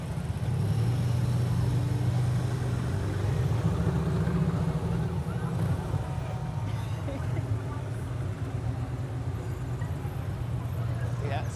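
Veterans' motorcycles roll past in a Canada Day parade in Saint Andrews by-the-Sea, a steady, moderately loud low engine rumble that continues throughout, with crowd chatter and voices mixed in.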